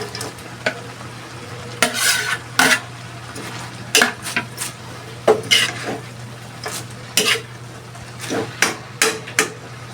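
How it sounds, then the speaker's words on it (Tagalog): Cabbage tipped into a pan of cooked potatoes and carrots for a breakfast vegetable mix, giving a run of scattered clatters and scrapes of utensil on pan over a soft steady sizzle, close and fairly loud, no talking. "Luto na tong patatas at carrots. Kaya ilagay ko na ang repolyo."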